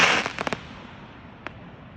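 Fireworks at a local fairground show burst in a quick cluster of sharp cracks and bangs, followed about a second later by one more pop, all heard from a distance and fading into quiet.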